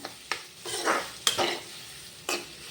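Beef curry ingredients sauté in a pan, stirred in several separate bursts of scraping and sizzling, with quieter frying between strokes and no voices.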